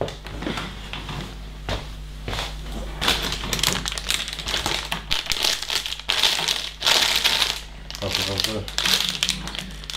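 Plastic Lego parts bags crinkle and rustle in repeated bursts while building the Lego Ideas Medieval Blacksmith set 21325, close and fairly loud, with people talking intermittently over the noise.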